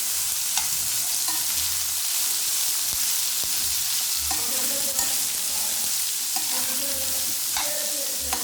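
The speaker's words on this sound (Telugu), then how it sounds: "కట్ చేసిన ఉల్లిపాయలు, పచ్చిమిర్చి కూడా ఇప్పుడు మనం ఆయిల్లోకి వేసుకుందాం." Chopped onions and green chillies sizzle in hot oil for curry leaf curry while a spoon stirs them, a steady close crackle broken by several scraping strokes against the pan, with no talking.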